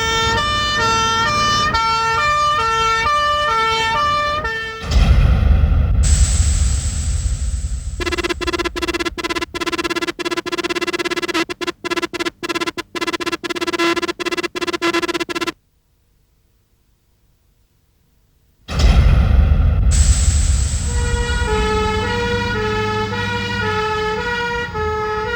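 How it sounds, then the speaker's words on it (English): Fire brigade pump engines race with sirens wailing in loud, repeating up-and-down tones and heavy engine rumble. The sound cuts off abruptly several times and drops to a few seconds of silence before the sirens return. "Every time the brigade is called out, the chances are you'll see one of the many makes of pump engine racing to the scene."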